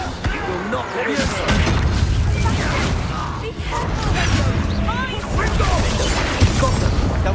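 Loud spell blasts and clashing magical combat from Hogwarts Legacy, with repeated booming impacts and crashes over several seconds as a voice calls out during the fight.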